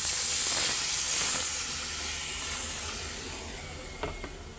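Broth poured over fried spice paste in a hot pan for fish curry bursts into a loud, close hiss of steam that slowly fades, with a couple of small clatters near the end.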